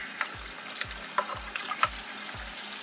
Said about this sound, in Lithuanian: Tai dabar jos skrūdinsim.